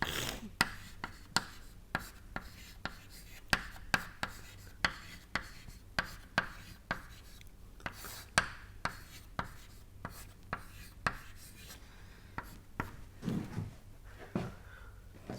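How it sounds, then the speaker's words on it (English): Chalk or pen strokes writing boundary layer equations by hand in a lecture setting, a steady series of sharp taps and scratches close by, fairly quiet, with no talking over them. "So, maybe let us write it here."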